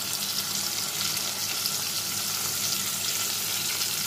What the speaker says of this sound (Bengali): জিরে, কালো জিরে ও কাঁচা লঙ্কা বাটাটা আমি এবার এর মধ্যে অ্যাড করে দেব।